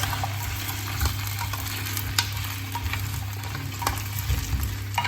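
Potato pieces sizzle in a hot pan as they are stirred, a steady frying hiss with occasional scrapes and clinks from the utensil; no one speaks.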